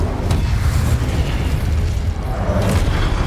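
An Incendio fire spell in Hogwarts Legacy goes off as a loud, sustained booming blast, a dense rumbling roar with crackling bursts over it.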